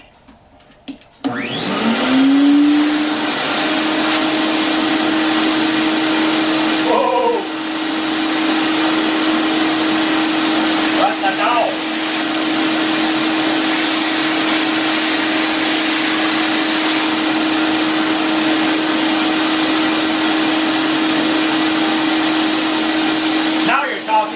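Lemmer T-75q HVLP spray turbine running at its second speed, a loud, steady high-pitched whine and airy roar that spins up and holds constant, with brief clicks and handling noises over it.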